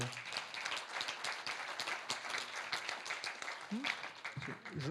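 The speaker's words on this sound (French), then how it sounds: "On peut les applaudir" Applause from the audience at a business evening held by CPME Vendée on business transfer, a steady patter of many hands filling the room, with voices talking beneath and over it.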